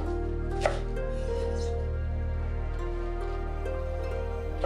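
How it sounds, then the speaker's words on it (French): A knife chops carrot and Chinese cabbage into julienne strips for a Chinese New Year dish, the few quick cuts faint over a steady low hum. "Coupez en julienne la carotte,"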